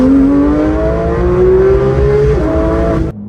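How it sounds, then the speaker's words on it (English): A Porsche 991.2 GT3 RS engine revs hard while driving, rising in pitch through a gear, then shifting and climbing again before cutting off abruptly; loud and close, with no talking. "Car really sounds good."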